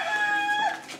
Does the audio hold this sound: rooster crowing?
yes